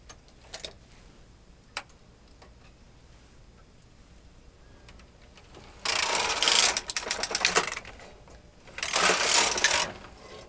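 A knitting machine carriage runs across the needles in two loud, rattling mechanical passes, each a couple of seconds long, after a few faint clicks.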